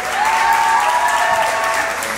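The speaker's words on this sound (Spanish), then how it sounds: "Un fuerte aplauso para él." A crowd applauding at a quinceañera, dense steady clapping filling the short stretch at close range, with a faint musical tone carrying underneath.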